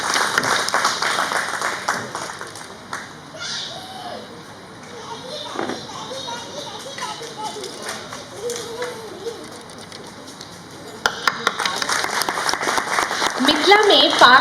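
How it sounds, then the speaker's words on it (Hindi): Applause at a cultural celebration in Singapore greets guests coming up for a pag and dupatta honor, uneven and patchy with scattered claps, swelling louder toward the end, with background chatter in between. "जोरदार तालियों से स्वागत कीजिए"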